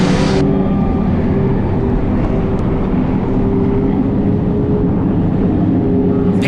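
Outlaw late model race cars roar on a track with a steady, loud, continuous engine drone throughout, and a brief burst of brighter noise at the start and end.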